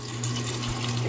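An Electrolux LPR washing machine fills with water, a steady rushing flow with a low constant hum, continuous and fairly close throughout the short stretch.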